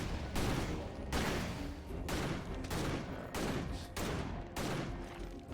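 Rapid bursts of video game gunfire as a player shoots down enemies, about six loud volleys in a steady rhythm with short gaps between them, dense and close with no talking.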